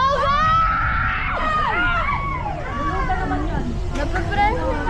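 Spectators shouting and cheering at a school football match in a district meet final, a continuous noisy crowd of yells and screams with some nearby voices over it.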